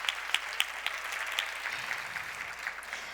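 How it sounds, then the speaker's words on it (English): An audience claps through a round of applause at a talk, a steady patter of many hands with a few sharper nearby claps, moderately loud and sustained without a clear ending. "Let's give her a round of applause."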